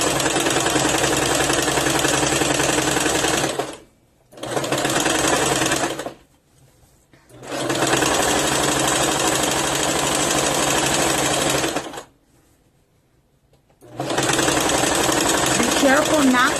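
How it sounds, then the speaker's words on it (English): A sewing machine set to its widest stitch runs through fabric in four loud, steady bursts separated by short pauses, its motor whirring with rapid needle chatter and no talking over it. "Still keeping your machine at the widest stitch"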